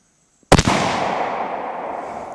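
A single sharp rifle shot from a Savage 110 Trail Hunter, loud and close, followed by a long rolling echo that fades slowly across the range.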